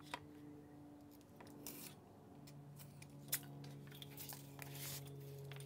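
Scissors snip and rasp through cardboard being trimmed for an animatronic eyeball build, quick irregular cuts close up over a steady low electrical hum.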